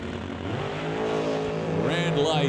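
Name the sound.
drag racing Mustang accelerating down the track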